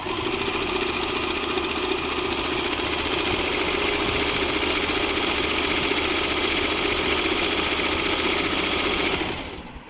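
An Usha Janome Stitch Magic sewing machine running steadily while stitching a buttonhole, a continuous close, loud motor whir and needle clatter for nearly ten seconds before slowing to a stop.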